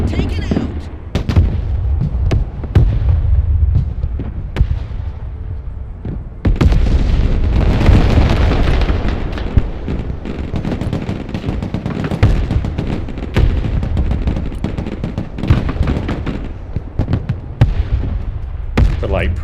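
Mortar artillery fire in the video game Broken Arrow, a dense, continuous barrage of booms and explosions with overlapping rapid blasts, loud and sustained throughout, with a player talking over it.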